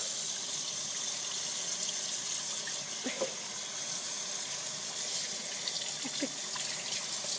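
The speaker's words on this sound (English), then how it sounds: "Rinse them off really good." Water runs steadily from a tap to rinse a puppy during its bath, a continuous close splashing hiss with faint, brief sounds now and then.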